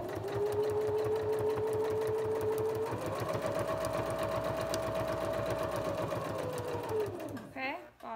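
A sewing machine stitches fabric for a baby bib in a steady, rapid mechanical run, its motor pitch rising midway and then slowing to a stop near the end, loud and close with no talk over it.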